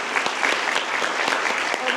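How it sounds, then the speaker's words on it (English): Audience applause at a deputy probation officer core graduation ceremony, a steady wash of clapping from a crowd held at an even level for two seconds with no voices rising above it. "I want to give a round of applause"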